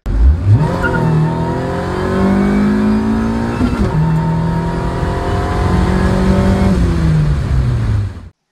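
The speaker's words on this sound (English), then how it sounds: "that was just a little second gear pull into third, and I let off" Supercharged D-series car engine tuned on E85 with a cold air intake, loud and close as it pulls hard through second gear, rising in pitch, briefly dipping at the shift into third, climbing again before the throttle lifts.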